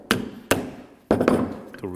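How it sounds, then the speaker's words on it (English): Metal hammer tapping on stuck rear brake pads of a 2016-2020 Kia Sorento 2.4L, three sharp loud strikes with ringing decay, the last two close together, followed by a brief faint tone. "you can use a hammer and tap on them"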